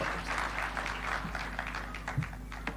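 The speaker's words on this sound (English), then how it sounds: "A clap for him, please." An audience at a national productivity and performance conference applauds a speaker, sustained scattered clapping from a crowd heard at a moderate distance under a low hum.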